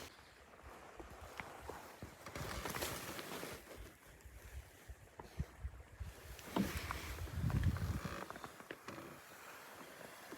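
A canoe paddled on a lake and landing on the shore, soft irregular splashes and water swishes building to a louder scraping rush, close and quiet with wind in the background.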